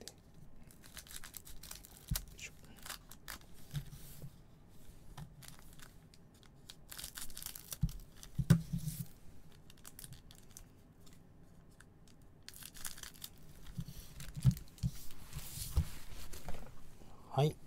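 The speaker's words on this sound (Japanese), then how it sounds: "まずハサミでね、上切りますんで。" Scissors cutting the top off a 2021 Topps MLS Chrome Sapphire trading card box, a series of close, quiet snips and crinkles of cardboard and wrap, with someone talking softly at times.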